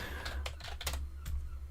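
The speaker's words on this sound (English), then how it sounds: "Now I've started typing ByteBank." Quiet, close keystrokes on a computer keyboard in a short irregular burst of several clicks, over a low steady background hum, with no one speaking.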